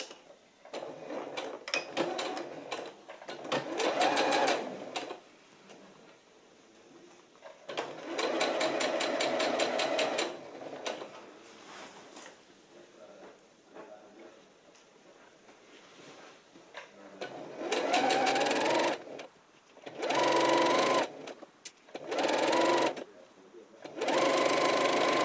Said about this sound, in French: On va les piquer ici à 1 cm du bord pour assembler le côté gauche et le côté droit.